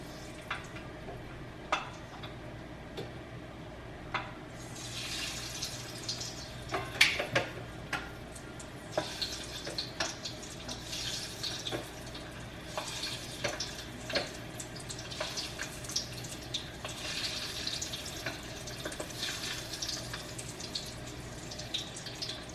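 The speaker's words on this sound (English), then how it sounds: "You can hear the fat popping under the lid." Pork belly deep-frying under a lid for lechon kawali gives a muffled steady sizzle, broken by scattered sharp pops and crackles of spitting fat throughout.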